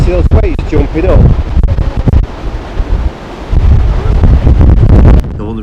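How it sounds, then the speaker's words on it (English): Storm waves crashing on the Fylde coast at Blackpool in gale-force gusts, heavy rumbling surges buffeted by loud wind noise on the microphone, close and rough, with a voice talking over it. "You see those waves jumping up?"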